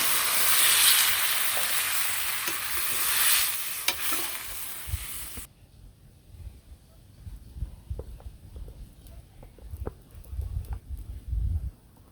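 Spices fry in a pan for a Bengali village-style dish, first a loud hiss and sizzle, then after a sudden drop a quieter stretch of scattered spoon knocks and scraping stirs.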